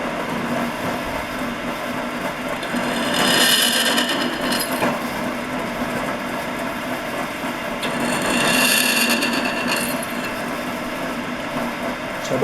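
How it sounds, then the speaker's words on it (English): A drill bores into metal, stepping up one millimetre in bit size at a time, making a steady grinding whir that swells louder twice as the cut bites. "by doing this and increasing our drill size every millimetre, we're not taking much metal out"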